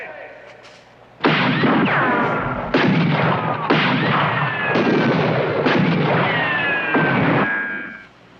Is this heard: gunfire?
yes